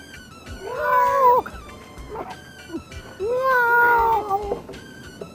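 A cat meows twice in long, drawn-out, wavering cries, close and loud, with a quieter gap between them and faint background noise.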